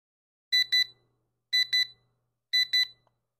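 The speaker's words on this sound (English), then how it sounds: "for the sake of us hearing what this sounds like, let's just set it for 5 seconds" A magnetic kitchen timer beeps in three evenly spaced bursts, each a quick double beep, sharp and clear against silence.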